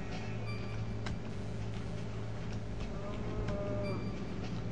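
Cows in Minecraft Alpha give a few low moos over a constant game background hum, with no talk over them.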